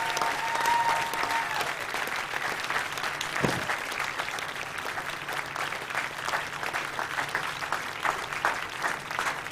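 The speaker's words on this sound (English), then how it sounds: "Can we have a massive round of applause for Janet and James from Vida?" Sustained applause and clapping fill an awards ceremony hall, a dense crowd clapping steadily for several seconds with no speech over it.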